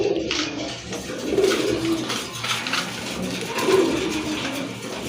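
A pigeon coos repeatedly at close range, soft rolling calls recurring every second or two over a steady background murmur.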